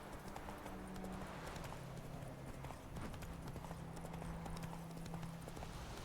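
Roach the horse gallops steadily in The Witcher 3, a continuous fast clip-clop of hooves at moderate distance with a low background hum, and no voices.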